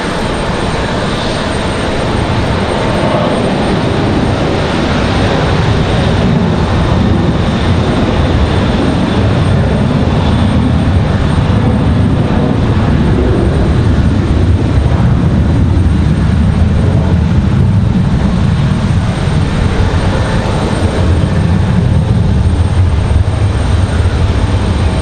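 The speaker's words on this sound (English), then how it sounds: "And we got a surprise Southwest making their way over here for departure." A Southwest Boeing 737 jet departing at Raleigh-Durham International Airport, heard as a loud, continuous broadband engine roar that holds steady throughout with no talking.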